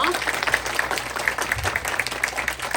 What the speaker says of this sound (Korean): 우리 발표해준 두 친구에게 박수 한번 부탁드릴게요.